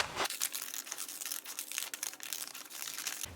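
Scissors snip and rustle through paper pictures being cut out for a collage, a close, continuous crinkly cutting sound with small bursts, no voices.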